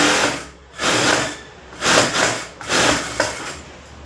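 A sewing machine stitching blouse fronts runs in several loud bursts, each lasting about half a second to a second, with short pauses between them.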